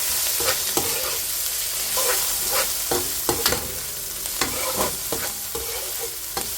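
Pimento peppers stirred in a cooking pot as they cook down, giving repeated close scraping strokes in a steady rhythm over a continuous frying sizzle, with no talking.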